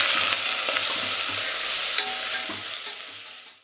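Sliced onions frying with spices in a pan while being stirred, a continuous close hiss of oil with soft scraping strokes scattered throughout.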